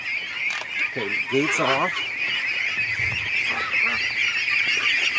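Ducks being let out of a pen honk and quack in loud bursts close by, over a constant outdoor hum, while a person speaks briefly.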